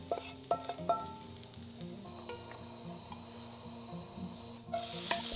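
Bamboo shoots stir-frying in a little oil for steamed bun filling, a soft steady sizzle with a few sharp utensil clinks early on and a louder hissing burst near the end, alone without talk.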